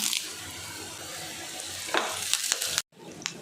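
Dried red chillies and curry leaves sizzle in hot oil for a tempering, a steady frying hiss with a few sharper crackles and stirring scrapes near the end, broken by a brief silence.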